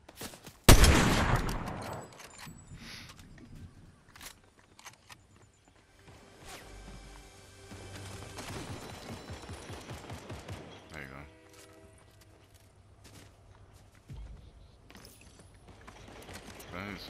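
Gunfire in the Fortnite battle royale game, opening with a loud close burst of shots that fades into scattered, intermittent shots and in-game clatter continuing through the rest of the scene.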